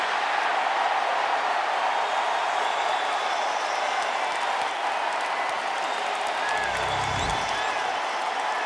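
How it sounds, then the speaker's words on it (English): Dense, steady roar of a large stadium crowd at an NFL football game between the Indianapolis Colts and Houston Texans, a broad wash of noise with faint scattered clapping that swells briefly near the end. "crowd noise is such an issue here at home"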